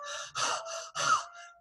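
A voice imitates breathlessness with a series of rapid, heavy gasping breaths, close and loud, in and out.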